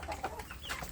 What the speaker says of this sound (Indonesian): ini anak ayam kampung saya yang ada di bagian pembesaran